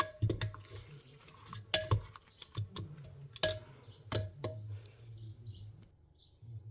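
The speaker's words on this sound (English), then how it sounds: "Mix it all together" Lamb and apple casserole ingredients being mixed in a bowl, with a series of sharp utensil clinks and scrapes at an irregular rhythm, close and moderately loud, over quiet stirring.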